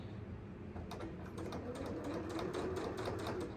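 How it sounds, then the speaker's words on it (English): A sewing machine top stitches a fabric tote bag, a quiet rapid train of needle clicks starting about a second in and running steadily over a soft motor hum, close and alone. "We're just going top stitch an 1/8 of an inch all the way around."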